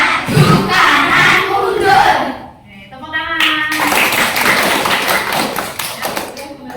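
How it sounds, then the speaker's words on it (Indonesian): Children clap their hands during a classroom movement activity, a dense burst of claps among lively young voices, with chatter and shouting throughout. "Tepuk tangan."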